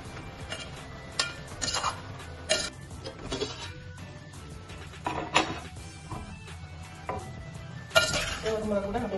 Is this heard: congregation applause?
no